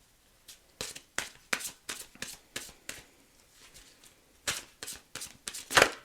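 Tarot cards shuffled by hand in a run of crisp riffling bursts, roughly a dozen short flurries at an uneven rhythm, close and clear with no talking.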